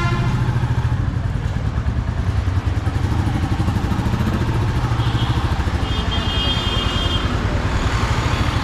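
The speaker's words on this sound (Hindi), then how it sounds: "ये बाइक मैंने स्टार्ट कर दिया" A Royal Enfield Bullet 350 (J-series) motorcycle engine runs with a steady thumping drone, close and loud, while the bike rides along with continuous engine rumble and wind.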